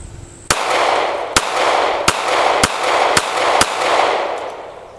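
Six sharp shots from a Smith & Wesson Bodyguard .380 pistol, fired in quick succession at roughly half-second intervals, loud and close, each crack followed by a brief ringing tail.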